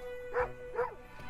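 A dog in the video game Moonlighter gives two quick, mid-pitched barks about half a second apart, fairly close and clear over a steady low background hum.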